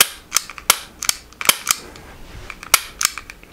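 An iTarget Pro laser training pistol clicks sharply with each trigger pull, about a dozen dry snaps at an irregular pace, close and crisp, with no voices.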